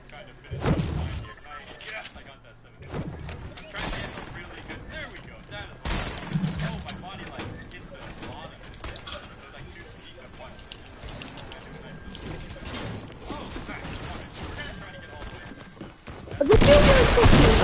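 Pistol gunfire in the video game Fortnite, scattered bursts of shots through the stretch and a loud sustained barrage at the end, with a player talking over much of it.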